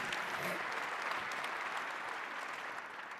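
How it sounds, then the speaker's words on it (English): Audience applause at a gala event fills the space, a dense, steady wash of many hands clapping that holds at an even level throughout without fading. "Yeah, you can applaud for that."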